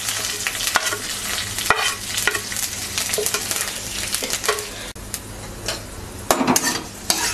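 Panch phoron five-spice seeds sizzle steadily in hot oil in a pan for moong dal with fish head, while a spoon scrapes and knocks through them in irregular strokes, close and fairly loud, with no talking.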